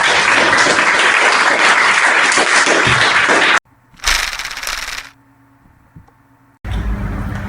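A studio audience breaks into a loud, dense round of applause that runs for several seconds, then cuts off abruptly, followed by a brief burst, a near-silent gap and another sudden return of clapping.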